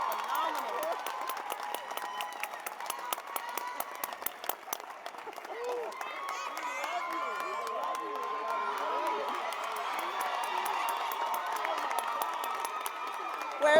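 Applause and cheering from a school audience for dancers at a high school Christmas show, with rapid crowd clapping and shouts under a host speaking and music playing throughout.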